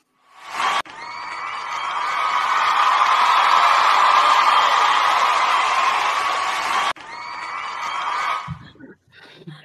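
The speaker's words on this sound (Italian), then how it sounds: "Metti l'applauso!" Crowd cheering and applause played as a sound effect on a cosplay podcast, a dense, loud wash of clapping and whoops that swells and holds for several seconds, cuts off abruptly, then returns briefly before fading into quiet.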